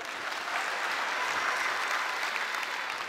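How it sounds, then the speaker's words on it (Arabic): Audience applause at a Moroccan comedy theatre show, dense and steady clapping from a full crowd sustained evenly for a few seconds without any voices over it. "صفقوا لي على المجمر"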